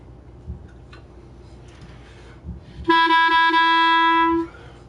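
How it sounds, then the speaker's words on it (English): After some quiet handling noise, a clarinet in A plays one sustained note for about a second and a half, clear and close, then stops. "This is called a clarinet in A."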